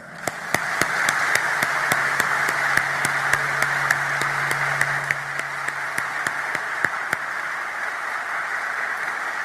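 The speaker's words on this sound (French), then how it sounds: "Célébrons cette attraction mutuelle par un applaudissement qui jaillit du cœur." Audience applause at a formal address, steady sustained clapping from a large crowd that holds at an even level throughout, with sharp isolated claps standing out above the dense wash and no speech over it.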